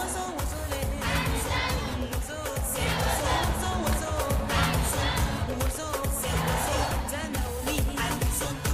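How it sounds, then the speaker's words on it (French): A live crowd roars and cheers continuously, shouts and whoops swelling in waves over a dense, reverberant wash of noise. "Ce sont vos applaudissements qui vont me conduire vers vous"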